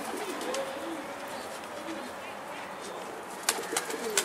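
Young racing homing pigeon cooing in repeated soft low phrases, fairly close in a warm outdoor setting, with a few sharper sounds near the end.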